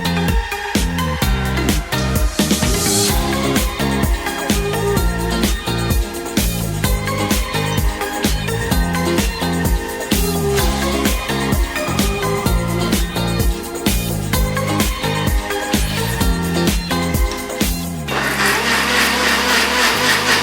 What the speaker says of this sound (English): Put all the ingredients into the blender with 2 cups of cold water and blend